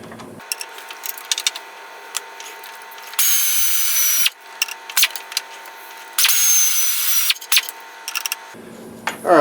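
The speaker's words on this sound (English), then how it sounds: "Probably have to wrench it off. Break that loose." Wrench work loosening a 14 mm bolt on the power steering pump of a 1997 Dodge Ram: close, harsh ratcheting bursts of about a second each, twice, amid scattered metallic clicks and clanks, with no talking.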